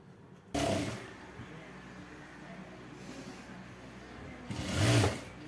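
A sewing machine runs a sleeve seam on an Anarkali top, with a loud close burst of stitching at the start, a quieter hum through the middle and a second louder run near the end, no talk.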